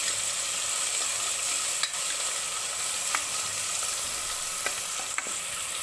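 Green chillies and onion frying in a pan during preparation of a bean and vegetable rice dish, a steady close sizzle with a few faint stirring clicks, no talk.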